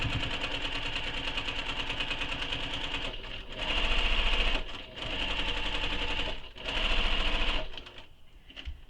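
A sewing machine hums steadily and close, running a second line of stitching on a handmade soft toy in several long runs separated by short pauses.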